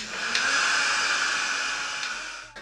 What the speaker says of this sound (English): It's actually an eyelash fan, which works so well in drying your face.